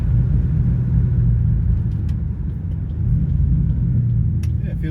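Steady, loud low rumble from inside a car with a Barra engine and BTR automatic transmission as it downshifts after a transmission service, the engine note dipping and rising smoothly.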